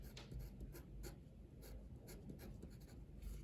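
Faint scratching strokes of a pen drawing a chemical molecule on paper, short irregular marks close by with quiet background noise and no speech.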